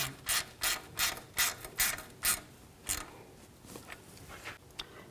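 A ratchet wrench snugs down the bolt on a brake hose bracket during upper control arm replacement on a 2007-2014 GMC Sierra 3500HD, giving a close series of about eight sharp, regular ratcheting clicks that fade into lighter rubbing.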